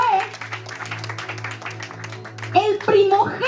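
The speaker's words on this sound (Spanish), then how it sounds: "a ver, ese aplauso más grande" Congregation at a church service applauding, a dense sustained patter of many hands under a preacher's voice that speaks over it and grows louder toward the end.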